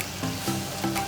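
Stuffed karela with qeema fries in oil, giving a steady close crackling sizzle with a few slightly louder pulses over about a second.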